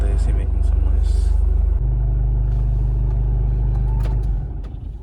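A Honda City's air conditioning blower runs as a steady, loud low hum and whir inside the car cabin, continuing throughout before easing off near the end as it is switched off.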